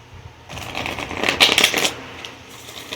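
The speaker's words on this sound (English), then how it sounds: "we're just going to put them all back and we're going to shuffle it again" Tarot cards being shuffled by hand, a brisk papery riffling that starts after a quiet half second, peaks midway and then tapers off, close up with no talking.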